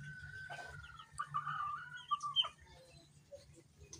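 A rooster on a provincial farm in Batangas, giving a few short clucking calls and a brief crow-like cry at close range amid quiet rural background with birdsong.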